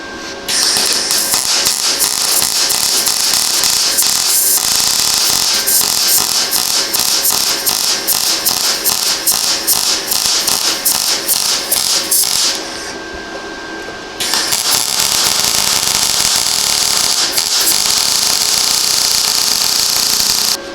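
Arc welding a steel motor mount on a 110cc quad, a loud continuous crackling buzz with rapid sputtering pulses, briefly dropping out near the end before resuming.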